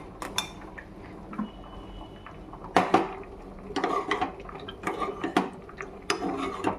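A spoon stirs cornflour mixture into milk in a pot for homemade badam kulfi, giving intermittent scraping clinks and metallic taps against the pot, close and fairly quiet, with no talking.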